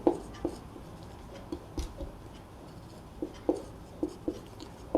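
Pen writing on paper during a class 12 math lesson, with short scratchy strokes in quick bursts and pauses, close and clear against a quiet background.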